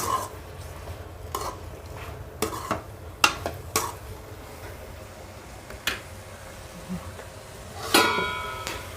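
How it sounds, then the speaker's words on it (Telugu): Garlic, tamarind, tomatoes and green chillies are stirred together in a pan for a coriander-mint chutney, with scattered spoon scrapes and taps over a low background hiss and a louder clatter near the end. "ఇప్పుడు ఇది మొత్తము బాగా కలుపుకోవాలి"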